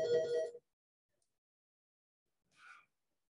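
A phone rings during a conference workshop on bear population modeling, with a loud harmonic ring for about half a second, then silence, then a second, softer and higher ringing burst.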